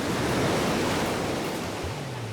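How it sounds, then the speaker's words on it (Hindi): Ocean waves wash onto a sea beach in a steady, loud roar of surf with no break, and a low tone rises near the end. "सुनो भाई, ये सी बीच है"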